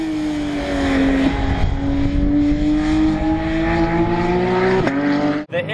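A Porsche GT3 RS race car engine roars at high revs on the Nürburgring Grand Prix circuit with a steady, rising howl, loud and close, briefly dipping at a gear change near the end.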